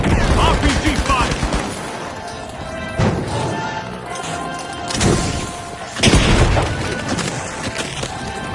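RPG rocket fire and explosions in the shooter game The Finals, with loud, chaotic blasts and crashes around the three-, five- and six-second marks over continuous combat noise.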